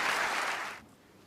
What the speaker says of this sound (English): appreciation from this massive crowd.